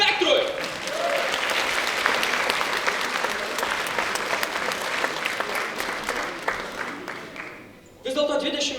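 Concert audience applauding a band at a 20th anniversary jubilee show, a dense, sustained wash of clapping that holds for several seconds before fading, with a voice returning over it near the end.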